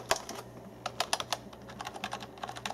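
Typing on a Hama uRage Exodus gaming keyboard, with light, quick key clicks in irregular bursts and short pauses, fairly close and alone.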